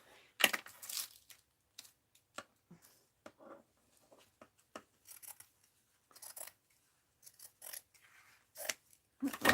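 Scissors snip through thrift store fabric in a series of short, crisp cuts, irregularly spaced with quiet pauses between them, close and fairly faint.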